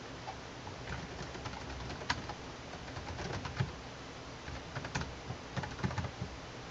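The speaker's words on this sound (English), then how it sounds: "you type in the password once" A password is typed on a computer keyboard, producing a run of close, uneven key clicks, while pigeons coo softly in the background.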